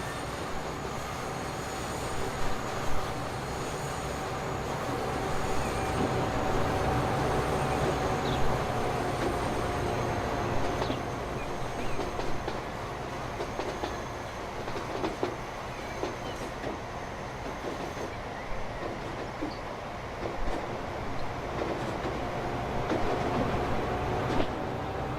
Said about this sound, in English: Look how big this train is. Look at it. Look, it's the French, one of their big trains.